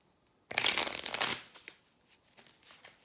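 A deck of oracle cards is shuffled up close, a quick burst of riffling and flapping lasting about a second, then softer sliding and tapping as the cards settle.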